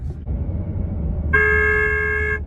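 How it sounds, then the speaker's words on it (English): A car horn honk played through a speaker hidden in a car trunk: one sustained, bright, loud blast about a second long, heard over low road rumble from the moving car. "I put a speaker in my friend's trunk and played honking sounds."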